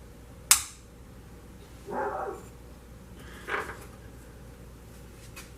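A dog barks twice at a distance, faint short bursts spaced about a second and a half apart, after a sharp click and over a low steady hum.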